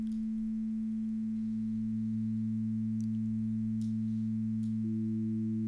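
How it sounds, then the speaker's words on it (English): Steady sustained organ tone from a virtual drawbar organ in Pro Tools, with a lower subharmonic pitch fading in beneath it and a small pitch change near the end, clean and electronic with no talking. "you'll hear this pitch coming in."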